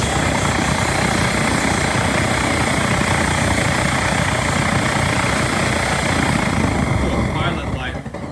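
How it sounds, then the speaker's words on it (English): A mono tube boiler burner for an autoclave roars with a blowtorch effect, giving a loud, close, steady rushing roar that holds without a break and eases slightly at the very end. "It causes a blowtorch effect to pop off too strongly in the beginning."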